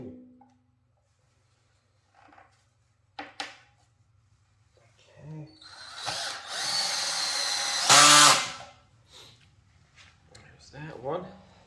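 Power drill driving screws into wood while building a tall decorative table, short whirring bursts with a longer loud run near the end, broken by quiet gaps and brief speech.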